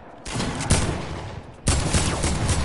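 Loud video game gunfire blasts in two rapid bursts, near and harsh, separated by a brief lull.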